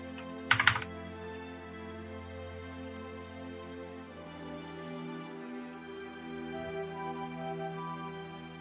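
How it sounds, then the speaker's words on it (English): Typing on a loud clicky computer keyboard during a World of Warcraft session, a brief burst of sharp clicks near the start, then quieter intermittent keystrokes under a steady game-music background. "Is my keyboard too loud?"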